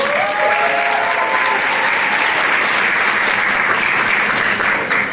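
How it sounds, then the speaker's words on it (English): A large audience claps loudly and steadily for several seconds, a dense wash of applause with a few scattered cheers, tapering slightly at the end. "One more round of applause for them."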